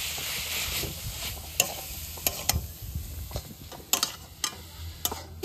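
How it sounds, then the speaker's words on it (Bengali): Jaggery and leftover-rice filling stirred in a pan, with a low crackling simmer beneath and several sharp scraping clicks of the spoon against the pan, close and fairly quiet. "দুটো মিশ্রণ ভালো করে এইভাবে মিশিয়ে নেব।"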